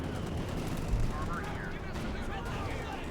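Rapid bursts of machine gun fire from a Company of Heroes 2 battle ring out amid a dense, continuous wash of battlefield noise and gunfire, with no clear gaps.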